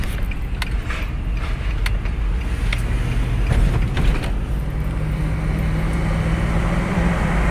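A car drives along, steady road rumble and engine hum heard from inside the cabin, continuous and moderately loud, with a few faint clicks and taps over it and no talking.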